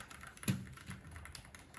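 Faint, fast typing on a computer keyboard gives a quick run of soft clicks, with one sharper keystroke near the start.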